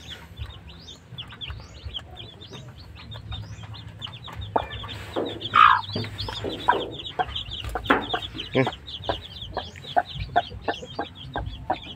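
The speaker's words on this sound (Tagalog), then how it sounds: "tumalo na yung inahin natin kasama yung kanyang mga sisiw." Mother hen with her newly hatched chicks, a busy mix of high peeping chirps and low clucks close by, rising into louder overlapping calls midway.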